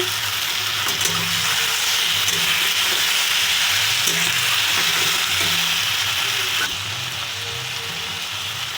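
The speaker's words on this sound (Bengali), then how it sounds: "ভালো করে নেড়ে করে দেবো টমেটো ভাজি দিচ্ছি" Tomatoes fry in a pan on low flame for aloo begun bhorta while being stirred, producing a loud, steady hiss with soft scraping strokes throughout, without speech.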